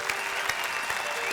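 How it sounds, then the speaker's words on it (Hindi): An audience at a comedy stage show claps steadily, a dense, even wash of applause from a crowd that keeps going without pause. "ताली बजाओ जरा इनके लिए, ताली बजाइए"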